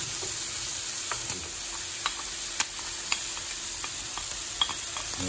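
Finely chopped garlic fries in oil for a cuttlefish and mussel black rice, a steady close sizzle with sharp clicks as it is stirred around the pan.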